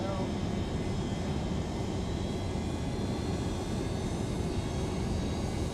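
A Boeing 727 in Microsoft Flight Simulator 2024 with landing gear and flaps deploying: a steady, loud jet engine drone and airflow rush holding constant throughout, with no distinct mechanical clunks standing out.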